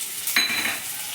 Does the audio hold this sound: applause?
no